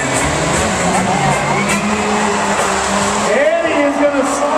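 A race car slides sideways at the Puyallup Fair with tires squealing in a wavering whine over loud, steady engine roar and crowd noise, the squeal rising sharply near the end.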